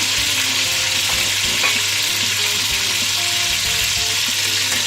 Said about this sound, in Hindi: अब इसमें चिकन फ्राई करेंगे। गरम मसाला डाल दें इसमें,